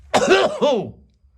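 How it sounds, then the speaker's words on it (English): A single loud, harsh cough with two rough bursts close to the listener, followed by quiet. "it's time for that loud cough."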